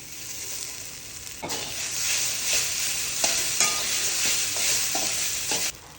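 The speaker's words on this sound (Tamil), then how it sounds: "சாதத்தை போட்டு நல்லா கலக்கிக்கலாங்க" Cooked rice is stirred together with drumstick flowers in a hot pan, giving a continuous close sizzle with several sharp scraping strokes of the spoon across the pan bottom.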